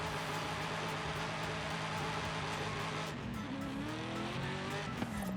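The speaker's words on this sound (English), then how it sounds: "we're going to do a burnout real quick here" A Hellcat-swapped 2008 Dodge Magnum SRT-8 holds a sustained burnout, its engine roaring steadily alongside continuous tire squeal and skidding noise that rises in pitch toward the end, loud and close.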